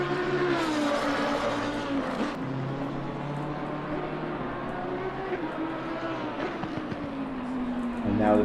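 A race car engine in Assetto Corsa Competizione revs hard through rising and falling pitch sweeps, loud and close throughout, with gear changes and a final surge of acceleration.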